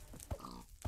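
A pig in the video game Minecraft gives two short, close oinking grunts within a second, set against a quiet background.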